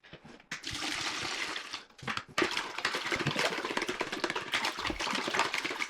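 Water is poured into a batch of traditional mead with some honey left in the vessel, a continuous splashing gush lasting several seconds after a brief start, with small knocks along the way.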